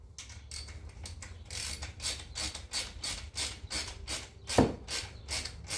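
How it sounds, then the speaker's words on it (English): Motorcycle fork cap being tightened with a ratchet, a quiet, close series of rapid clicking strokes in regular rhythm, with one duller knock midway and no talk. "we're just going to go ahead and tighten this down a little ways"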